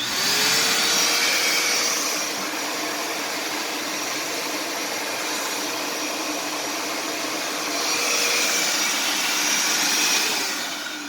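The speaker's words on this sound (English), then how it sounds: "turn on the vacuum cleaner." A vacuum cleaner runs steadily with a loud rushing whoosh, blowing air into a car tail light to dry out trapped water. Its pitch swells slightly near the start and again toward the end, and no one speaks over it.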